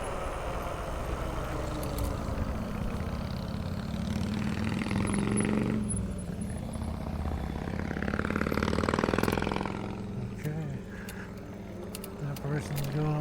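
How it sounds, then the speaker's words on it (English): Cars passing on a road at night, heard as broad engine and tyre swells that rise and fade over the middle of the clip beneath a constant background hum, with a voice talking. "Couple cars coming."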